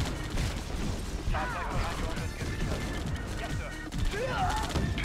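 Rapid gunfire from units in the video game Command and Conquer Red Alert 2, repeated short shots in a steady rattling fusillade at moderate distance, mixed with clanking unit mechanisms and a couple of brief whining effects.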